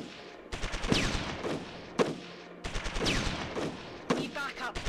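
Gunfire rings out in the video game Shadow Empire as sharp bursts of rapid shots arrive in repeated volleys, with single cracks between the bursts.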